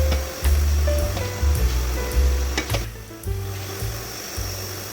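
Water boiling vigorously in a pot, set up with a damp idli cloth on a plate for steaming kozhukattai, a dense continuous bubbling roar with low rumbling pulses, close and loud, no talk.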